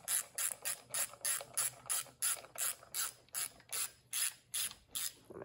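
A wrench ratchets in a quick, regular series of about sixteen crisp clicks, close up, while tightening the air filter bolts on a dirt bike, with no talk.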